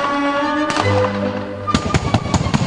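Paint charges go off in explosions during filming of a Sony Bravia advert: a droning background is broken by one sharp blast, then a rapid cluster of loud bangs that pops in quick succession.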